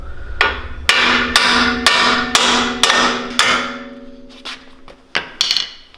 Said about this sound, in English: you will have to knock these out with a hammer